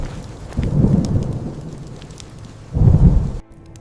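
A thunderstorm with steady rain pours down while two deep, heavy rumbles of thunder roll through, the second surging louder before the sound cuts off abruptly.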